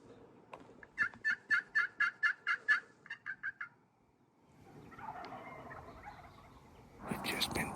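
A wild turkey in the desert lets out a rapid gobbling burst of about a dozen pulses, fairly distant and clear, followed by quiet rustling and faint whispered voices nearby.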